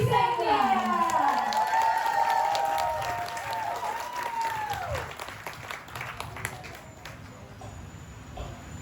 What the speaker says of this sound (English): Let's give applause for